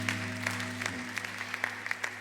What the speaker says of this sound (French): Applaudis bien pour Jésus-Christ.